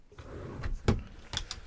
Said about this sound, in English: Coming along, cutlery drawer